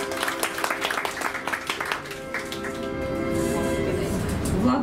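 Audience applause in a televised quiz studio as a contestant is introduced, a dense steady patter of clapping that swells slightly toward the end, with some tonal sound underneath.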